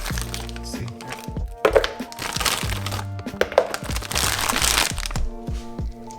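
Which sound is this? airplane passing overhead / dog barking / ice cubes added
ice cubes added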